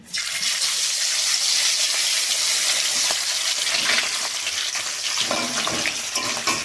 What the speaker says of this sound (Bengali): আমরা রুই মাছের পেটি এনেছি, এখন ভাজা করে নিচ্ছি